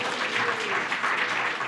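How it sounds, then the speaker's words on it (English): An election watch party audience gives a short, steady burst of clapping, dense and sustained throughout with no voices above it. "I also wanted to have a round of applause for Tim Idoni again"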